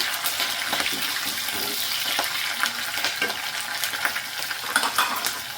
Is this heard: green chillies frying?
yes